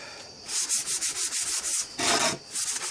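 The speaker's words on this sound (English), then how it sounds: "Now the sanding block," Rhythmic scratchy rubbing of a sanding block on wood, about a dozen quick back-and-forth strokes, close and clear with no talking.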